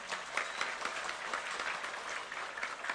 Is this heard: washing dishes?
no